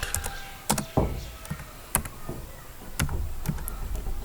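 Scattered keystrokes on a computer keyboard while typing text in Photoshop, irregular clicks close to the microphone over a steady background hum, with no talking.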